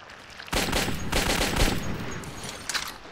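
Rapid gunfire aimed at a monster in the video game Metro 2033 sounds as a loud burst of close automatic shots, one dense volley lasting a couple of seconds, then a few trailing shots.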